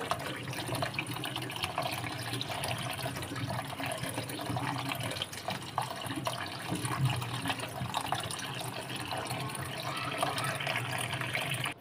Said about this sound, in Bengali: পুরোপুরি সিদ্ধ হয়ে গেলে আমি নামিয়ে ঠান্ডা পানিতে ছেঁকে নিচ্ছি।